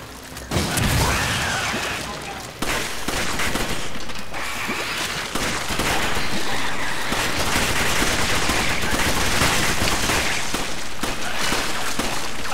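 Sustained gunfire in the video game Resident Evil 5, a loud dense stream of shots and blasts lasting several seconds with brief pauses, filling the mix without talk.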